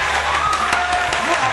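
Steady applause from a crowd, dense and continuous throughout, with faint voices mixed underneath.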